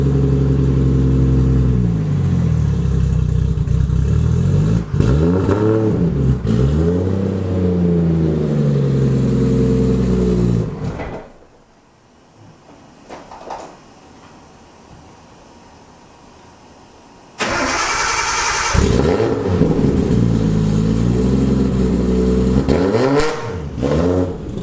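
A Nissan 240SX S14 with an RB25DET engine idles loudly up close and is blipped into repeated rising and falling revs, then drops to a low, quiet lull before the revving resumes.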